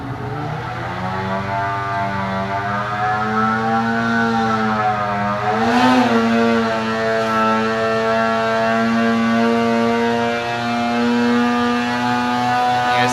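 A 2020 Arctic Cat Alpha Riot snowmobile with a Bikeman Stage 2 setup revs on a dyno, its engine note a loud, sustained high-pitched drone that climbs steadily with a brief surge midway, running continuously with no talk.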